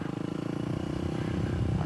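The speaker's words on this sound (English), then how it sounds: "I'm surprised also by the down, or the engine braking on this bike." A Yamaha WR250X motorcycle engine on a test ride, its steady low pulsing drone engine-braking as the bike slows, held at an even level throughout without any talk.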